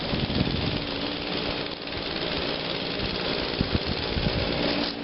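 Steady motor whir of an electric leaf blower running at low volume, a constant broadband hum with a few faint knocks and clicks over it.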